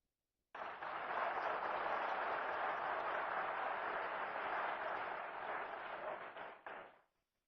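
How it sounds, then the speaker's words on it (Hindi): Children clap at a Tribal Pride Day ceremony in Udham Singh Nagar, Uttarakhand: a dense, steady round of applause that lasts about six seconds before fading quickly, with no talking over it. "बच्चों की ताली कुछ बाद में बज रही है।"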